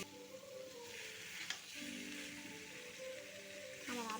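Potatoes sautéing with spice paste in a pan for aloo dum, a quiet steady sizzle with occasional stirring scrapes and a soft voice talking underneath.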